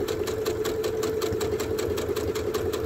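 A sewing machine stitches half square triangle quilt pieces, running steadily and close up with a rapid, even needle rhythm and a continuous motor hum, with no talking.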